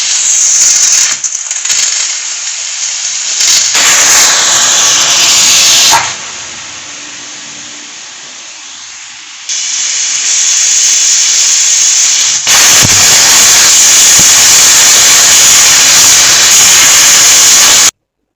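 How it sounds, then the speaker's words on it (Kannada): A pressure cooker holding ridge gourd vents loud, sharp steam hisses close by, a roaring whistle that drops briefly to a quieter hiss midway, then surges back strongly and continues until the end. "ಸೊ ಇವಾಗ ಇದಕ್ಕೆ ಮುಚ್ಚಿಟ್ಟು ವಿಶಿಲ್ ಹಾಕ್ಸ್ಕೊಳ್ಳೋಣ"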